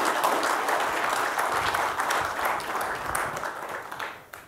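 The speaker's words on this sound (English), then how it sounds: "Give Jeff a round of applause." Conference audience at a Georgetown defense talk giving a round of applause, a full steady clatter of many hands that tapers off near the end.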